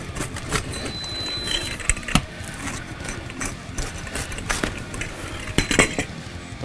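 A knife scrapes and taps across a homemade pizza made from 24-hour cold-fermented dough, giving repeated short clinks and scraping cuts close up on a hard surface.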